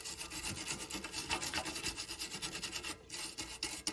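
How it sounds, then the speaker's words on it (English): Small screwdriver scraping crud off a rear brake part on a 2016-2022 Lexus RX, a quiet, rapid, gritty rasping of repeated short strokes with a brief pause near the end. "we can use a little screwdriver to scrape off any crud that's stuck in there too"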